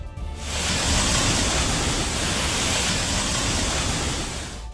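Floodwater from an overflowing drain torrents across Shimla Bypass Road in Dehradun after heavy rain, a loud, steady broadband roar of rushing water that holds unbroken throughout with no voices.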